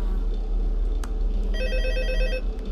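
A telephone rings in Five Nights at Freddy's 2, a loud electronic trilling ring that starts midway over a steady low hum from the game.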